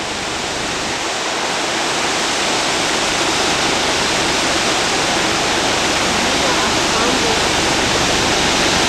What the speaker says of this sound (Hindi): ये बहुत खूबसूरत झरना चंद्रताल के रास्ते के अंदर है। बहुत शोर मचा रिया है।